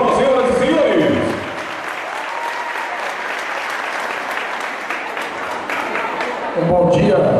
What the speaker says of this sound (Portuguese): o senhor Osni Cardoso, com uma forte salva de palmas, senhoras e senhores.